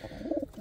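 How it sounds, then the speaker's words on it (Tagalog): A pigeon coos close by, a short run of soft, throaty warbling notes, then another brief coo. "Ayan yung ating mga kalapati mga Kamis Vlog."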